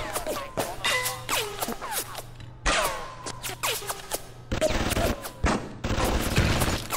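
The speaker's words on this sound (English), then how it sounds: "What are you shooting at?" Gunfire in BioShock, with repeated sharp shots and bursts in quick, uneven succession throughout, loud and close with echoing tails.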